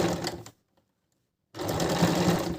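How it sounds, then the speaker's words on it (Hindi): A sewing machine stitches a sleeve with a loud, close whirring run, stops for about a second of silence, then starts up again and keeps running steadily. "इसको सिलना शुरू करेंगे।"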